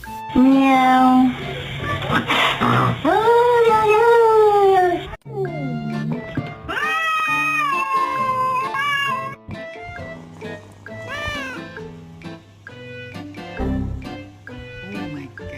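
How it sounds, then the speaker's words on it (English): A pet cat meows repeatedly indoors, with drawn-out, rising and falling cries across the whole stretch and a person's voice mixed in. "Meow."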